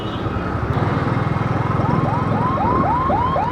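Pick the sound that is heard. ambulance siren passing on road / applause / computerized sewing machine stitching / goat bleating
ambulance siren passing on road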